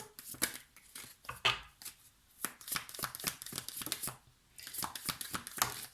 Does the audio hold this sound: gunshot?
no